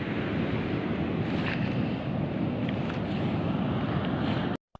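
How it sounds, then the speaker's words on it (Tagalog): Heavy sea surf pounding steadily, with waves around three metres high near where boats are pulled up on shore; loud, continuous roar mixed with wind buffeting the microphone, cutting off abruptly at the end. "Grabe ang alon. Sa mga 3 metro siguro."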